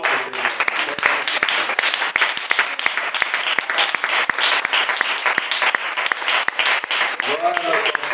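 A church congregation claps loudly and steadily in a dense burst of applause, with voices rising through the crowd noise.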